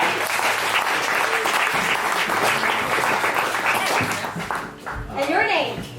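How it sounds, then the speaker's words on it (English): An audience at a SOFAR Sounds concert in Phoenix gives a loud, dense round of applause with some cheering, fading near the end as a voice speaks over it. "So give them a round of applause really quick."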